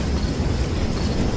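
Heavy rain pours steadily during a thunderstorm, with low rumbling underneath and a dense, constant roar throughout, close and loud with no voices.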